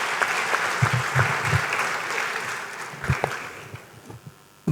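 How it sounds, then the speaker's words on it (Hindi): An audience at a literature festival applauds, a moderately loud wash of clapping with a few sharper hand claps, easing off toward the end. "जोरदार तालियों स्वागत करते हैं"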